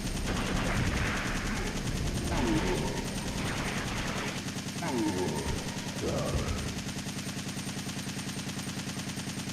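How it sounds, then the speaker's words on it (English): Enemy gunfire in a Resident Evil game rattles in repeated bursts beneath a steady background drone, while a person talks over part of the shooting. "Why is he shooting over my head?"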